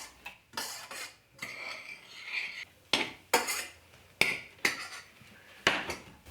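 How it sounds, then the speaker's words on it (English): A spoon clinks and scrapes against a pot while cooked quinoa is stirred and fluffed, giving several sharp, close metallic taps in an irregular rhythm separated by softer scraping. "I just give it a stir to fluff it up a little bit."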